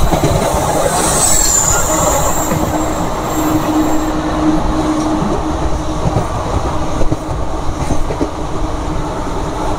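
Kolkata–Digha special train 03161 running at speed: a loud, continuous rail rumble from onboard, with a high wheel squeal early on and clickety-clack wheel beats, and no talking.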